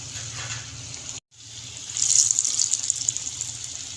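Potato snacks fry in hot oil, a hissing sizzle that swells louder after a brief cut, with a low background hum underneath and no talking.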